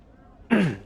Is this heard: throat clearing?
yes